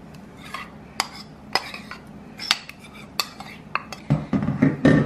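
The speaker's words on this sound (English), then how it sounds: "You give that a nice mix." A spoon stirs honey into a mixture in a bowl, giving a series of sharp, separate clinks against the side before quicker scraping and tapping.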